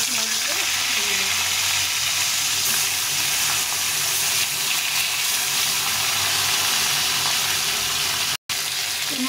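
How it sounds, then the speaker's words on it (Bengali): Fish fry steadily in hot oil in a pan, giving a continuous dense sizzle and crackle close up throughout, with no talking. "বাকি মাছগুলো ভেজে নেব।"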